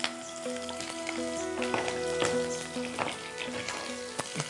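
Green chilies frying in hot oil with cumin and garlic: a quiet, steady sizzle and crackle, dotted with small pops and stirring sounds.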